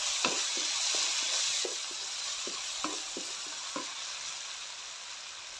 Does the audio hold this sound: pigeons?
no